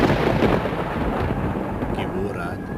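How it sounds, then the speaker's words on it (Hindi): A heavy night storm roars with strong wind and dense rain, a continuous loud rushing wash with a low rumble that eases slightly toward the end. "तेज हवाएं, रात के गहन अंधेरे में तेज बारिश ये बयान कर रही थी"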